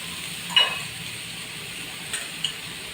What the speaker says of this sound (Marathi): तेल घालते थोडंसं मी त्याच्यामुळे आपले टॅमॅटो छान भाजून होते